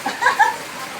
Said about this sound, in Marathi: आणि हा पाऊस पडतोय